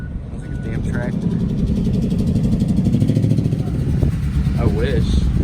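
A car engine running rough and lean with no compression, its lumpy tractor-like chug droning steadily and loudly throughout, with a voice talking over it.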